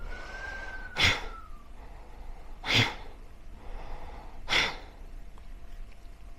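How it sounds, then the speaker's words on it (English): Three forceful breathy exhales through the nose, evenly spaced about every two seconds, close and sharp like snorting puffs, with quiet pauses between them during a yoga breathing practice. "the exhale is quite forceful, and you want to try and get all of the air out of your breath as much as you can"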